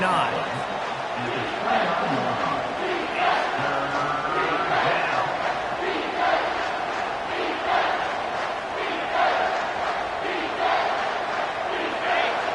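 A home crowd roars continuously in an NCAA college football video game on third down, a dense stadium cheer with swelling shouts, while a commentator talks over it.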